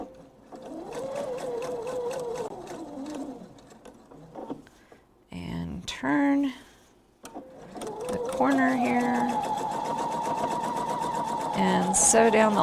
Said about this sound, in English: And sew down the long side.